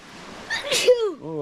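A single sneeze bursts out at close range, followed right after by a voice speaking, with faint wind or surf noise in the background.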